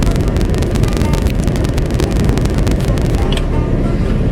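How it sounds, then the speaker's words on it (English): Heater fan blowing inside a Jeep Cherokee during a test drive, a loud continuous rushing whoosh that stays steady throughout, with no talk over it. "I can hear the fan blowing."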